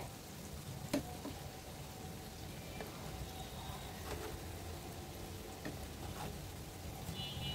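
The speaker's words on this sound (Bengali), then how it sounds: "তো এটাকে মিডিয়াম আঁচে ভাজতে হবে ভালোভাবে।" Flattened rice fritters (chira bara) frying in oil on medium heat, a soft continuous sizzle and crackle with occasional clicks of a utensil, faint and close.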